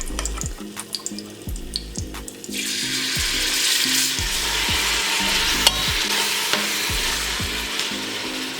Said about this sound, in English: allow my beef to brown on both sides before I start pressuring it